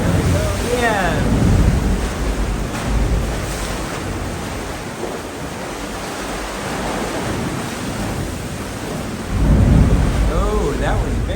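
Ocean waves surge and boom inside the Ovens sea caves near Lunenburg, Nova Scotia, with heavy low rumbles swelling and receding as the tide comes in, two strong surges near the start and end, under wind buffeting the microphone.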